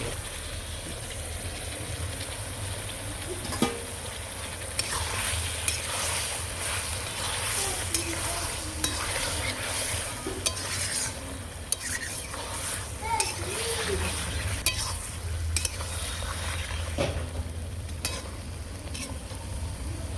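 Cauliflower fries in oil over a cooked-down spice base for a chicken and spinach dish, a steady close sizzle punctuated by repeated clicks and scrapes of a stirring spoon against the pan.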